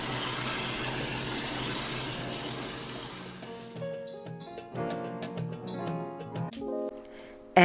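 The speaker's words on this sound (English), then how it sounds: "Now wash your black-eyed peas in cold or cool water several times." Water runs steadily for a few seconds while black-eyed peas are washed in cool water, then stops, followed by scattered clicks, rattles and small knocks of things being handled nearby.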